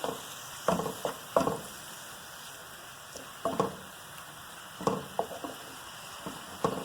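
Chicken pizza topping mixture is stirred in a sizzling pan, with irregular clicks and scrapes of a spoon over a soft, steady frying hiss, close by.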